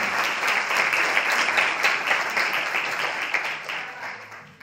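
Group gathered for an open house discussion gives a team a round of applause: sustained, dense clapping from many hands that holds steady and fades slightly toward the end.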